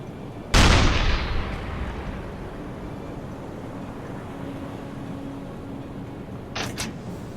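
A submarine deck gun fires a high-explosive shell at a merchant ship in the game UBOAT, one sharp, loud report whose rumble trails off over several seconds, then a faint mechanical clank follows.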